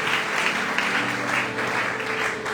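A church congregation claps steadily to acclaim God, a dense, sustained roll of many hands applauding at an even level throughout, filling the room without a break.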